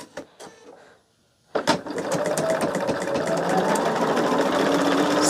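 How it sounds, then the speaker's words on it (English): Home sewing machine stitching pieces of a Christmas gnome pattern, starting after a few light clicks and a short pause, then running as a steady rapid needle chatter at moderate volume. "And I can just start sewing again."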